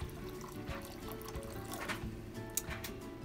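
Water trickles and splashes faintly as it is poured into a clear bowl for a traveling rainbow science experiment, a soft continuous pour with small drips and bubbling.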